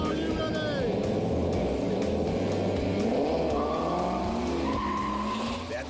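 A supercharged Shelby GT500 Mustang and a Camaro SS launch side by side, tires squealing and engines roaring as both cars accelerate hard, loud and close with rising engine pitch throughout.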